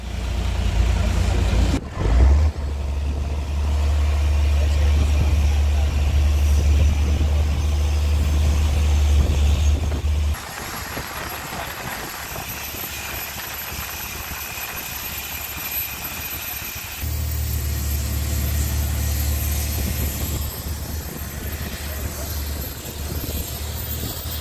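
Boat engine running steadily during a tourist excursion to James Bond Island in Thailand, a loud low drone that drops out partway through and then returns, with people talking over it.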